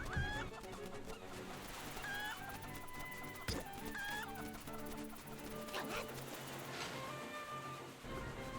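Video game chicken from Link's Awakening clucking in repeated short squawks over looping game music and sound effects, fairly quiet.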